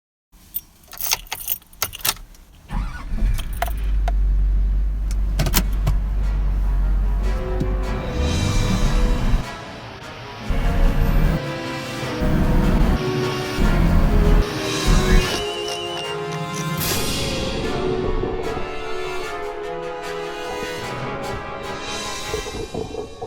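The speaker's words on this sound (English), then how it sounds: "I ran over the Apache case at 20 miles an hour with my truck" A pickup truck rolls over a plastic Apache case at about 20 mph, starting with keys jangling and clattering handling noise, then a steady low engine rumble, scattered crunches and knocks, and engine swells later on.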